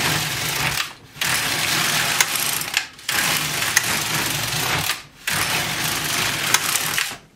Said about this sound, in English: And then we're going to run our carriage across again.